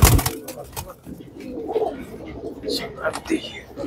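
Champion racing pigeons at a Narayanganj tournament coo in short, soft bursts close by, with faint chirps, while someone talks over them.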